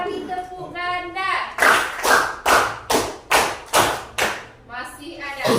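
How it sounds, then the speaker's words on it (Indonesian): Schoolchildren in a classroom clapping game strike a series of sharp, loud double claps in a regular rhythm, about eight evenly spaced strokes, with a voice speaking briefly before and after. "3 kali tepuk ganda."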